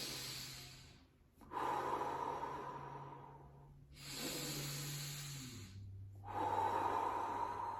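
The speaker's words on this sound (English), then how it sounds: "Again, we're breathing in and up towards the eyes and the brain." Slow, deep breaths are drawn in during a neck pain breathing exercise, with three long airy inhalations close to the mic, separated by brief quiet pauses, and a faint low hum running beneath.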